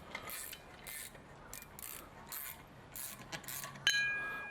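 A bolt on a Nissan 350Z damper is tightened with a ratchet, giving bursts of quick clicking that repeat in short runs, close and moderately loud, ending with a sharp metallic clink.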